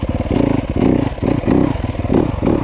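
A 2014 Yamaha YZ 250F dirt bike with a Rekluse clutch revs in a series of short, rhythmic bursts, close and loud, with engine pulses rising and falling.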